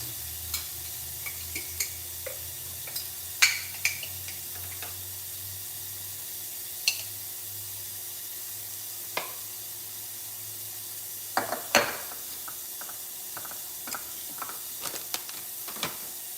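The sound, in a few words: sauteing food in a pan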